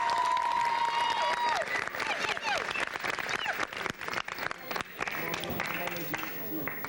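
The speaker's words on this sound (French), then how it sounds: "Applaudissez-la s'il vous plaît." Studio audience applause on a Cameroonian television show breaks out and crackles on, with scattered claps and cheers, while people keep talking over it.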